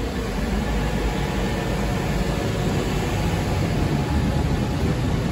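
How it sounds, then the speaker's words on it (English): Server room air conditioning and IT equipment fans roar steadily, a loud, constant broadband whoosh with no change or pauses, filling the space without any voices. "the air conditioning and IT equipment fans are so loud that it's hard to carry on a"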